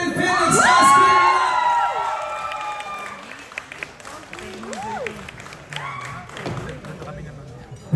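An audience at a film media conference cheers and shouts with scattered applause, loud at first then fading into a murmuring crowd with whoops, while a host talks over it.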